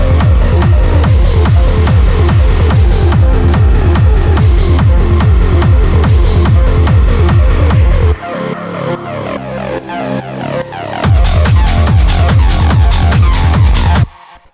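A hard techno track drives along with a pounding steady kick, a sustained pad and a rolling bass line. The kick drops out for a short breakdown of about three seconds before slamming back in, loud and dense.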